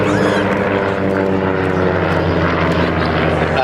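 A Percival Provost or Balliol propeller aircraft engine runs at full power, a loud steady droning roar close by that holds throughout without a break.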